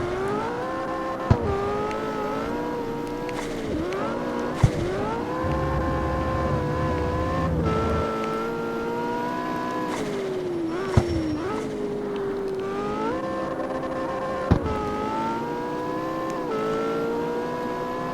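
A McLaren 720S sports car driven in the street racing game CarX Street, its engine note droning steadily and shifting pitch through gear changes, with occasional sharp clicks, loud and continuous throughout.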